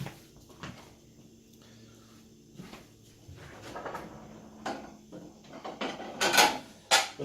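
Large dinner plates and dishware clatter as they are lifted out of a kitchen drawer beside a dishwasher, with soft knocks and scrapes building to sharp ceramic clinks near the end.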